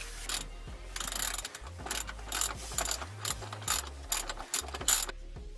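Hand ratchet loosening the downpipe bolts on a car with a catless open downpipe, giving a rapid clicking pawl sound in repeated bursts, close and clear, with no talking.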